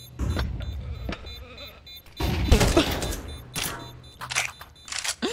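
Gunfire bursts rattle in the shooter game Counter-Strike 2, with a short volley early on, then louder, denser rapid fire and scattered later shots, all fairly close.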